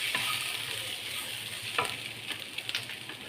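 Onion, tomato and cashews sauté in a pan for paneer gravy, a steady close sizzle with a few sharp spatula scrapes and crackles near the end.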